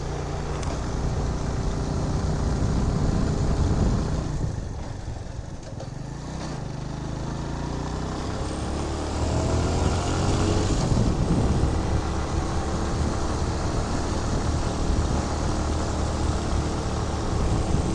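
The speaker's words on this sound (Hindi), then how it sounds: "बाइक की पावर जो है वो मिस हो रही है और पहले गियर पे बाइक जा रही है।" A motorcycle engine labours up a steep paved mountain road in first gear in Neelam Valley, a loud sustained drone that dips briefly midway and then swells again.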